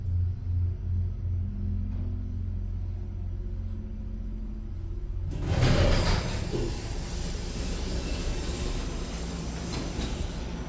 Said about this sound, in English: Let's just open both the doors, just why not?